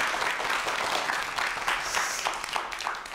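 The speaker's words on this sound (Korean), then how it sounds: "좋은 강연 해주신 조안호 대표님께 다시 한번 큰 박수 보내주시기 바랍니다" An audience gives a lecturer, 조안호 대표, sustained applause after a talk on math and fractions, with a thick, even clatter of many hands and faint crowd murmur, no talking on top.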